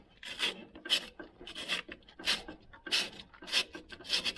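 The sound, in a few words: sanding a ride-on mower drive pulley wheel with sandpaper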